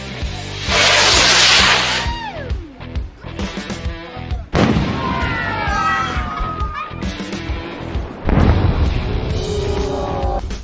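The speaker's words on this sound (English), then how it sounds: "Check out these 1 in a million moments when fireworks are struck by lightning." Loud bursting booms and crackling fireworks explosions with whooshes as the fireworks are struck by lightning, repeated over several seconds, with shouting and people reacting throughout.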